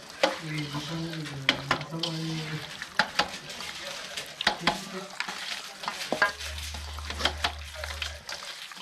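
Masala and salt being mixed by hand into meat for popti, producing close squelching and rustling strokes in an uneven rhythm with faint background voices and a low hum partway through.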